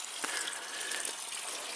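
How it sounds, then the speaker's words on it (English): A small creek runs after rain, a steady soft rushing and trickling of water, faint and continuous with no voices. "Got a little creek running through here."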